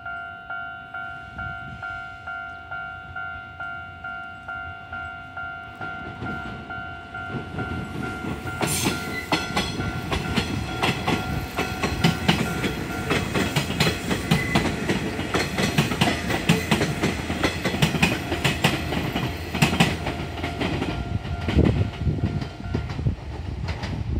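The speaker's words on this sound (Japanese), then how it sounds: "天神行きの普通列車" A Nishitetsu local train bound for Tenjin passes a pedestrian-only level crossing near Nishitetsu Futsukaichi Station. Crossing bells chime steadily at first, then the train rumbles in loud and close with continuous wheel clatter until the end.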